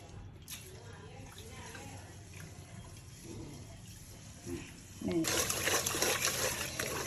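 Rice being rinsed in a bowl of water, with soft swishing and trickling under a person talking, then a sudden louder gush and splash as the rinse water is poured out near the end.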